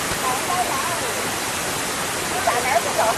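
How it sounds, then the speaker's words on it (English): Steady, broadband rushing of the Na Mueang waterfall on Koh Samui fills the background, with people talking faintly over the continuous roar. "Okay, that was the waterfall."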